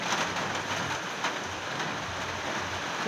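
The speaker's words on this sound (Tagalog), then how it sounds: "malakas po yung ulan" Heavy rain pours down steadily at home on a rainy Sunday, a dense, continuous hiss and patter that stays constant and loud throughout, with no voices.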